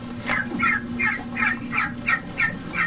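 Turkeys gobble repeatedly inside a coop's indoor area, eight or so rippling calls at a steady, fairly quick rhythm over a low constant hum, close and moderately loud.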